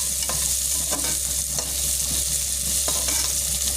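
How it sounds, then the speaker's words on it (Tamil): Onion sautés in a hot pan beside cauliflower for a spinach dish, producing a continuous close sizzle broken by several scraping stirs of a spatula, with no voices present. "நல்லா வதக்கலாம்."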